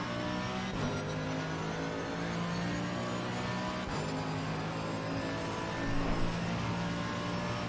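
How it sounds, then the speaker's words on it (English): In the pit lane of Imola at night in Assetto Corsa Competizione, a Mercedes race car revs and holds a continuous engine roar through a burnout, steady and fairly loud with slight surges. "Who's doing burnouts on the Mercedes in the pits lane?"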